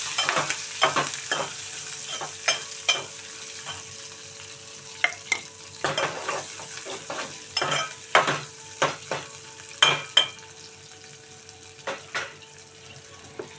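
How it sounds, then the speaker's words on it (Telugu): Thinly sliced onion and long-cut green chilies fry in a pan for an okra-tomato curry, with a steady sizzle broken by repeated sharp scraping and clattering stirs of a spoon, close and clear with no talking. "ఒక పెద్ద ఉల్లిపాయ ఇలా సన్నగా ముక్కలు కట్ చేసుకుని ఒక మూడు పచ్చిమిర్చి ఇలా పొడవుగా కట్ చేసుకుని ఇలా వేసుకోవాలండి"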